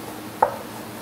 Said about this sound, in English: For this recipe, I'm just going to quarter the tomatoes.